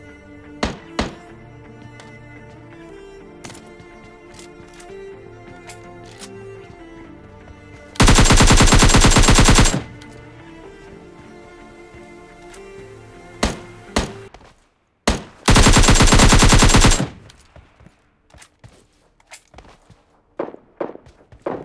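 Rapid bursts of automatic gunfire in PUBG Mobile Lite, including a Groza rifle, mixed with scattered single shots and thumping impacts, two long loud volleys standing out, with footsteps and quieter clatter between.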